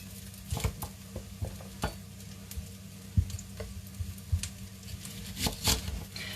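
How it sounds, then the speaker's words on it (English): Mushroom lentil burger patties fry in a pan, close by, with a steady sizzle broken by irregular taps and scraping clicks as they are moved about. "So these lentil burger patties, they cook for 4 minutes on each side"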